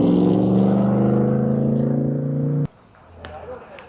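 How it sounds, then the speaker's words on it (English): Vintage race cars of the VARAC group roar past at a racing festival track, a loud sustained engine drone that cuts off abruptly, followed by fainter distant engine noise and crowd ambience. "Some of the vintage race cars are taken to the track."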